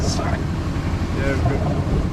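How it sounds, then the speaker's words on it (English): A sailboat's engine runs at about 1500 revs under way in rough open water, a steady low drone mixed with wind and water noise beneath talking voices. "we've got the engine running for a bit of control. Yeah. It's only at 1500 revs."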